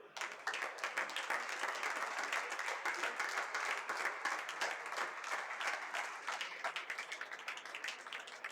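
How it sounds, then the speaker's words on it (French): An audience claps at a padel tournament trophy ceremony in Perpignan, a steady, moderately distant wash of applause that holds evenly throughout. "Donc Frédéric, Alain, on peut les applaudir."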